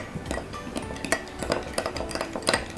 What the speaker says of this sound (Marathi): आणि आता साखर विरघळेपर्यंत हे दही आपल्याला थोडं फेटून घ्यायचं आहे